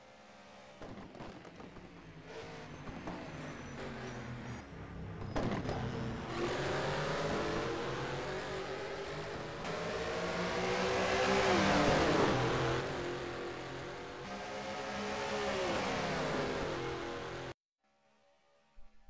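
Race cars thunder past on the Nordschleife during a two-hour endurance race at dusk, engines loud and close with rising and falling revs as cars accelerate along the long straight, ending abruptly in near silence.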